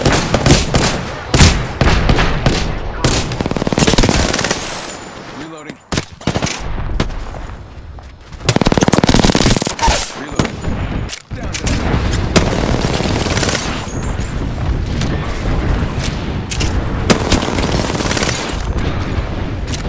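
Gunfire and a grenade blast in a fast-paced shooter match as Mirage, with rapid bursts of automatic fire, scattered sharp shots and heavier booms coming in waves over twenty seconds, loud and close throughout.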